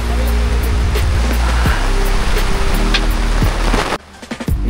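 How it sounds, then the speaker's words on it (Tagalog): Heavy rain pours down on a flooding campsite at a festival in Tanay, Rizal, a loud continuous wash of water that cuts off abruptly near the end, leaving faint scattered drips. "Lakas ng ulan."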